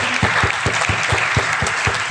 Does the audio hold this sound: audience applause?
yes